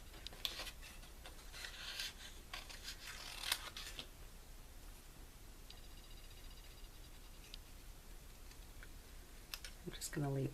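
Scissors trimming stamped paper around a little lighthouse card design, a series of quick, close snips and clicks in irregular bursts, fairly faint, with a person talking intermittently.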